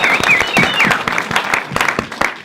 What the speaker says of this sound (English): You can applaud for him.